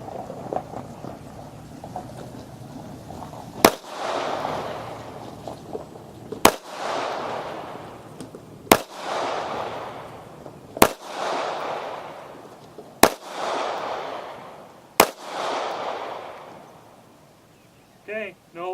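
Six sharp, loud pistol shots from a Kimber Micro firing Tula steel-cased .380 ammunition, spaced about two seconds apart, each followed by a brief echoing decay over quiet outdoor background.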